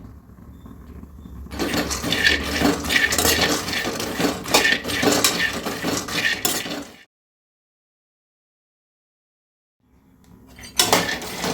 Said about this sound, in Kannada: ನಾನಿಲ್ಲಿ ಅರ್ಧ ಕೆ ಜಿ ಪೀನಟ್ನ ಹಾಕ್ಕೊಂಡಿದ್ದೀನಿ ಇದನ್ನು ಚೆನ್ನಾಗಿ ಫ್ರೈ ಮಾಡಬೇಕು